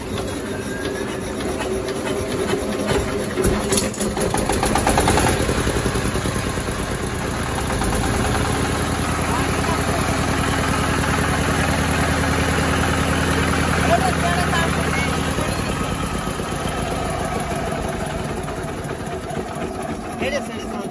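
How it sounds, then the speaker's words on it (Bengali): An old reconditioned 20–24 kVA diesel generator starts and runs, a steady, loud, low engine drone with a rhythmic rumble that holds for about twenty seconds, while voices talk in the background. "চলুন আপনাদেরকে স্টার্ট করে ইঞ্জিনের সাউন্ড কোয়ালিটিটা শোনাই,"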